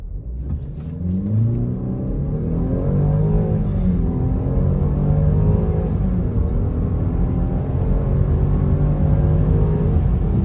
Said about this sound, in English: We'll do a true 0 to 60 here in sport mode.